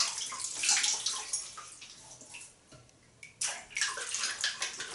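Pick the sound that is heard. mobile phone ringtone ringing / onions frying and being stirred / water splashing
water splashing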